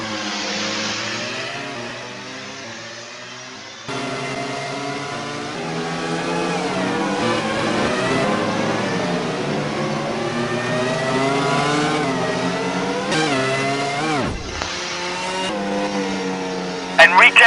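A Formula 1 car at Interlagos in the 2002 Brazilian Grand Prix enters the pits, its high-revving engine whining and sweeping through gear changes, heard loud against a commentator's voice.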